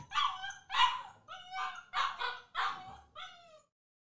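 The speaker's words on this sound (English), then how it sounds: "this dog is gonna be the end of me" A dog barks six times in a steady, evenly spaced rhythm, each bark sharp and close to the listener. The barks are loud and stand alone with no talking around them.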